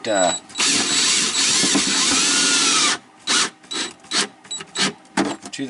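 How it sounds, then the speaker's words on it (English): A power drill whines in a long steady burst, then runs in several short pulses as screws are driven into a wooden plate, with faint handling noise between. "And I've got the screws and I've got the drill."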